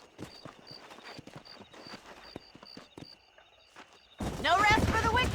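Horse hooves clip-clop at a walking pace across dry ground in the Western game Red Dead Redemption, quiet and steady, before a voice cuts in near the end.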